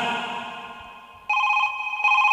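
A telephone rings on stage during a live comedy and music show, a bright electronic ringtone that fades out, then returns in two loud, steady bursts, with no talk over it.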